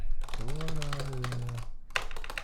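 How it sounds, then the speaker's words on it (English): Someone types on a computer keyboard at a desk, producing a quick run of light clacks. A voice talks over the typing the whole time. "Forgive my typing."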